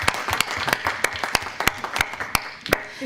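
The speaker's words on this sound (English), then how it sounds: "can you give them a round of applause because they are truly phenomenal" Scattered audience clapping at a school board meeting, a modest crowd applauding with distinct sharp individual claps, short and fairly close.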